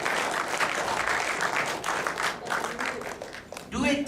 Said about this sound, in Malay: Bagi tepukan pada dia.